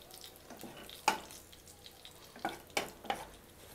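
Garam masala fries in a pan while a spoon stirs it, for a chicken egg kothu kari. A faint sizzle sits under a few scattered clinks and scrapes of the spoon against the pan, heard close and quiet without speech.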